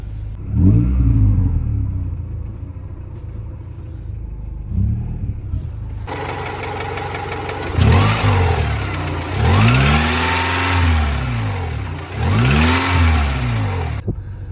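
A 2000 Honda Prelude engine idles with a steady low hum at near operating temperature, then revs up repeatedly in several rising and falling bursts, loud and close.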